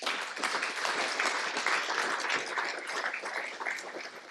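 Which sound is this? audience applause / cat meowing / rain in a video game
audience applause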